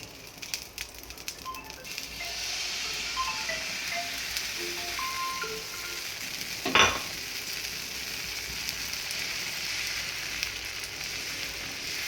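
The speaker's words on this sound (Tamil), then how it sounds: "இப்போ கல் ரெடி ஆனோன்னே தோசை மாவு ஊற்ற போகிறோம்" Dosa batter poured onto a hot griddle for masala dosa, giving a steady, quiet sizzle throughout, with a brief scraping clink partway through.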